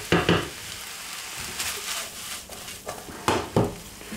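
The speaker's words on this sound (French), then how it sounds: "Je mélange." Beef and onions being stirred in a pan for a beef gratin: a soft frying sizzle broken by several loud scraping and clacking stir strokes in irregular bursts, close by, without any voices.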